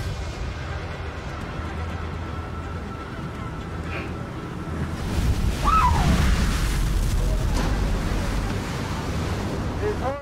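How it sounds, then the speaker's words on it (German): Strong wind roars across the deck of a fishing boat on the Bering Sea, a steady broadband rush that swells louder midway and holds, with faint whistling tones above it and no talk. "wenn der Wind so stark pfeift"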